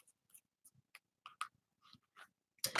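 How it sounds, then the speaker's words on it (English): A tarot card deck being shuffled, with a string of soft, brief riffling and flicking bursts spread across a couple of seconds, closing on a louder, fuller shuffle at the end. "Let me go ahead and shuffle up this deck."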